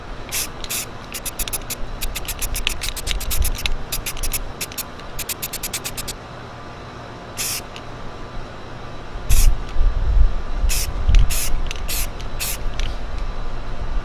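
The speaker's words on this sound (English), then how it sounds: "Just do light little sprays like this right here" Short hissing bursts of white spray paint on a tumbler, a quick rapid series followed by a few longer separate blasts, close by over a low background rumble.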